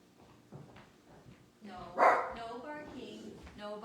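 A dog barks a couple of times close by, one sharp, loud bark standing out, while a person talks over it.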